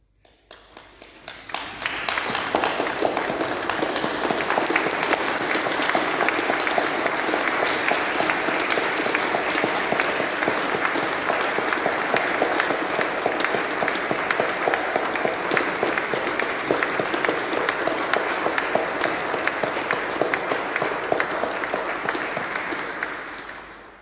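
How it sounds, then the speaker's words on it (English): A congregation applauding for health and care workers in Carlisle Cathedral: dense, sustained clapping from a large crowd swells within two seconds and holds steady and loud for over twenty seconds in a reverberant space. "So clap for the carers,"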